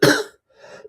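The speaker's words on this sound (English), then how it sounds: "But this cough is nagging me till that get out." One short, close cough from someone with a lingering chest cough, followed by a softer throaty rasp as the breath trails off.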